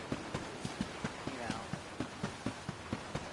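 Horse hooves clip-clop at a brisk, steady gallop in the video game Dragon Quest 11 S, a regular rhythm of distinct beats lasting throughout, with game ambience behind them.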